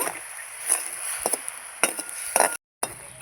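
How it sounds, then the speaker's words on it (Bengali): Sugar syrup is stirred in a pan with a utensil, giving soft intermittent scraping and clinking strokes, close and moderately loud, with a brief silent gap near the end. "এই যে চিনি শিরাটা আমি এভাবে নেড়ে নেড়ে কিন্তু শিরাটা খুব ভালোভাবে করে নেব"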